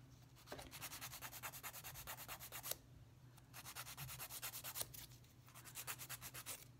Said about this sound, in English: Okay, file some more.